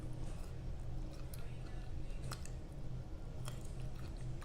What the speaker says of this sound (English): I'm gonna eat this in my hand